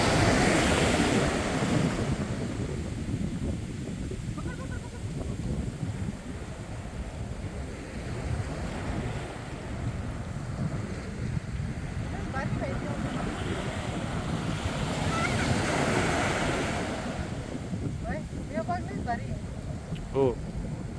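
Ocean surf rolls in steadily on Devbag beach, a broad continuous wash of breaking waves mixed with gusty wind buffeting the microphone, and a voice talks over it throughout.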